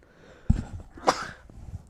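A man in a casual podcast setting lets out a single sharp sneeze, a sudden burst followed by a breathy exhale, heard close with no speech.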